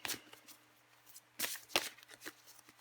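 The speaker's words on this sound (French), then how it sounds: "Et je vais encore tirer une carte pour vous" A deck of cards is shuffled and a card drawn for a reading, heard as soft, close riffles and flicks in a few quick bursts over a quiet room.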